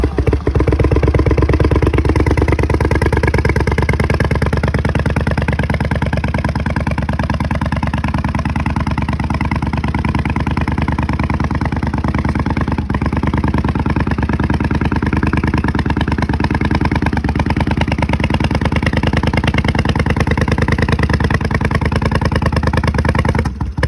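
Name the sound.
motorcycle engine idling after cold start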